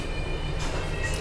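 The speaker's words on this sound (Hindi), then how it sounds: "रैपिड रेल फिलहाल पहुंच चुकी है दुहाई स्टेशन पे।" Namo Bharat rapid rail train arriving at Duhai station: a loud, continuous rumble of rolling wheels with a brief brighter hiss partway through, heard close up and without voices.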